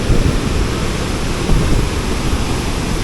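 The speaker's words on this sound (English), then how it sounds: "But you can start to see the waterfall here going down" A waterfall in Baños, Ecuador, heard as a steady, loud broadband roar of rushing water that fills the whole clip without a break and with no voices.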